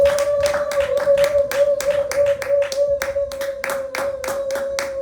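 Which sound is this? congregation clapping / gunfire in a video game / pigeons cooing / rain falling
congregation clapping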